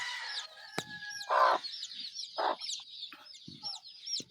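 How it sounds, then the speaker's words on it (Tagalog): Mother hen clucking in a coop, a series of short, soft, close clucks spaced irregularly, with chicks peeping faintly in the background. "Ito po yung ating isang inahin"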